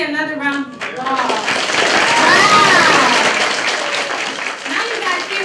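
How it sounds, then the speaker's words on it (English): A round of audience applause for Lizzie at a children's book event swells after a brief spoken line and carries on loudly with scattered cheers and voices, tapering toward the end. "Let's give Lizzie another round of applause."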